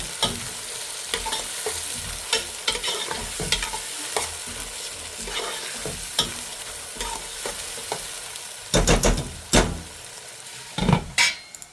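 Dried and green onions fry in a pan for stuffed crab while a utensil stirs them, a soft sizzle broken by repeated sharp scrapes and clinks of metal against the pan that grow louder toward the end, with no voices.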